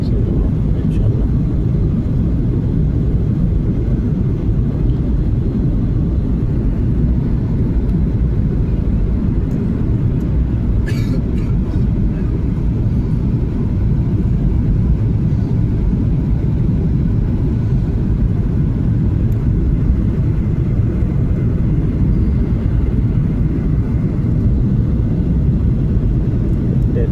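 Passenger airliner descending to land at Suvarnabhumi airport, heard from inside the cabin as a steady, loud low roar of engines and airflow that holds constant throughout.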